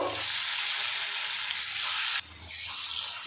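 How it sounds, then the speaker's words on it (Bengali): Small papaya and mung dal fritters fry in hot oil with a loud, steady bright sizzle that briefly drops away and then returns at full strength. "এবার এই তেলের মধ্যে পেঁপে আর মুগ ডালের মিশ্রণটা দিয়ে দেবো। ছোট ছোট বড়া আকার করে এগুলো আমি ভেজে নেব।"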